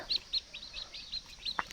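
Soft, repeated clucking from a brooding hen sitting on eggs, several short calls at an uneven rhythm, fairly faint against a quiet outdoor background.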